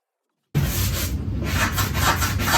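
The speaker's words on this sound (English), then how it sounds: "I'm gonna go ahead and use my sanding block" A sanding block rubbed by hand across a wooden potato and onion bin gives a close, steady scratchy rasp that starts abruptly after a brief silence.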